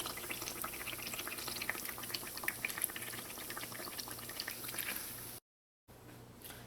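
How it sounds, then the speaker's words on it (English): Trini bake dough fries in hot oil, a faint, steady bubbling sizzle with scattered pops that continues for several seconds before a brief dropout. "you just want to fry them until they get a nice color."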